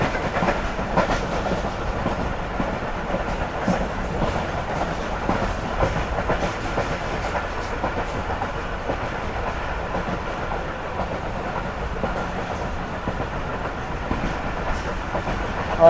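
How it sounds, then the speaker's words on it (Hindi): Karakoram Express rolling along and slowly gaining speed, a loud continuous rumble with rhythmic clickety-clack of wheels over rail joints, steady from start to finish with no talking. "आहिस्ते आहिस्ते स्पीड आप देख सकते हैं कि बढ़ रही है ट्रेन की।"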